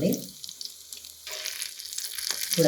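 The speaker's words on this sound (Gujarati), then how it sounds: "ક્રિસ્પી થાય એના માટે આપણે થોડા ફ્રાય કરી દઈશું" Steamed palak kofta crisping in hot oil in a home kitchen, with a bright hissing sizzle that rises and falls in short bursts, plus a few faint stirring clatters.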